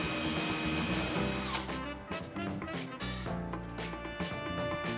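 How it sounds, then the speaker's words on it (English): A Jacobs chuck locked by its hex mount into a screwdriver socket, run as a handheld mini drill: a loud, steady motorized whine, then choppy rhythmic bursts of spinning and stopping, with no talking. "The integrated hex mount locks the chuck into the screwdriver socket, giving you a handheld mini drill."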